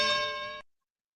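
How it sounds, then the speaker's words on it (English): A boxing bell gives a single bright, ringing strike that sustains for about half a second and then cuts off abruptly into silence. "That's your boxing bell."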